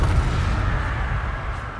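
A Confringo spell explosion in Hogwarts Legacy gameplay, heard as a loud, sustained rumbling blast with dense low-end roar and crackle that stays steady for nearly two seconds.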